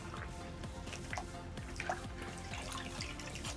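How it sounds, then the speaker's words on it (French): Running water pours steadily as facial cleansing sponges are rinsed under a tap, a close, continuous splashing hiss with small drips, quiet and without talk. "Et donc on va rincer ces éponges."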